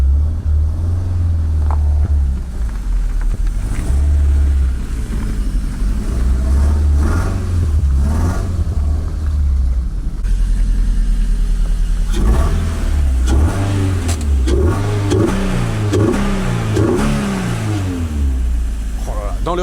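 A 1991 Toyota MR2 engine keeps idling steadily after the battery booster is disconnected, a loud continuous mid-pitched hum with slight revving, while people talk over it.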